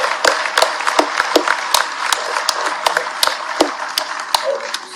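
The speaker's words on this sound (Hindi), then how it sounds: "एक बार ताली बजे तो ऐसी बनना चाहिए।" Audience applause at a government event where a Chief Minister addresses industry, a dense burst of many hands clapping with sharp individual claps standing out, fairly loud and steady for several seconds, with a little speech mixed in.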